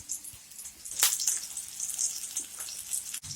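Meatballs browning in a frying pan give a steady, close sizzle with bright crackling spits and a brief flare of louder hissing, continuous throughout.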